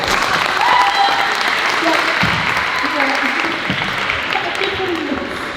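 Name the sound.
audience applause at show choir cabaret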